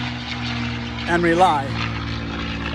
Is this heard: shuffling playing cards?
no